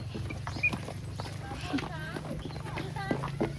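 Rhythmic clip-clop of hooves from a bullock cart under steady talking and a low engine hum, close by.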